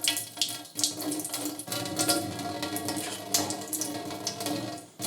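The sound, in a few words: pouring water with debris out of a tomato seed container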